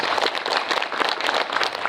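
Audience at a Korean film Q&A screening of Save The Green Planet (2003) applauding the director and actor, a dense, steady patter of many hands clapping at once, moderately loud and continuous without talk.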